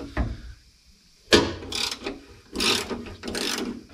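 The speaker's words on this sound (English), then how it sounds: "We will loosen these up down here, all of them but one." A ratchet works loose the door hinge bolts on a 1959 Dodge Coronet during bodywork, several close bursts of rapid clicking separated by short pauses.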